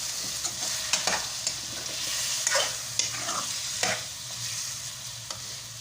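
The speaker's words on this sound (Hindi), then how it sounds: "अब हम इसके अंदर टमाटर को ऐड कर देंगे और अच्छी तरह से हिला लेंगे" Tomatoes and spices are stirred into a chicken and potato shorba in a hot pot, spoon scrapes and clacks landing irregularly over a soft, steady sizzle, with no talking.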